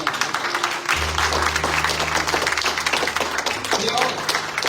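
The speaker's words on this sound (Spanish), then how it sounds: "Yo que usted le doy un fuerte aplauso al Señor." Church congregation applauding the Lord during a Spanish-language sermon, steady dense clapping throughout with a low sustained tone underneath, crowd noise mixed in.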